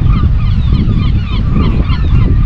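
Seagulls call repeatedly at Bow Fiddle Rock on the Moray coast near Cullen. The harsh, overlapping cries are loud and close over a steady low outdoor rumble, and no one talks.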